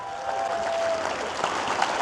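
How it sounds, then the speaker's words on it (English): Audience applause for Justice Chandler, a Hendrickson Liberty Award winner, at an outdoor birthday barbecue celebration; steady broadband clapping from a crowd holds throughout, moderately loud with no talk over it. "Let's get another round of applause for Justice Chandler, everybody"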